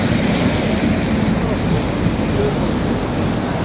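Sea waves surge along the seafront at San Sebastián, Spain, where the sea meets a river mouth, a steady broadband wash of surf mixed with wind buffeting the microphone, continuous and fairly loud throughout with no distinct breaks.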